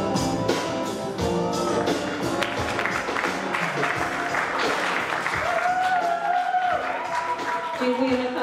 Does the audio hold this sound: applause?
yes